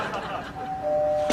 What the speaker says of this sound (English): you just rang Stan Lee's doorbell